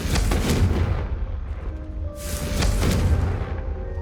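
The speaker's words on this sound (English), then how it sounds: "a Confringo cast travels a bit farther than that of a spell like Incendio." Fiery Confringo and Incendio spells cast in the video game Hogwarts Legacy burst out as two loud, booming, explosive blasts about two seconds apart, each trailing off in a rumble, with no talking.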